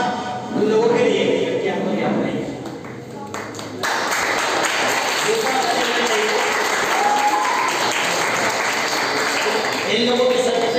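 An audience at an award distribution ceremony gives loud, sustained applause. The clapping is dense and carries steadily, with voices mixed in underneath.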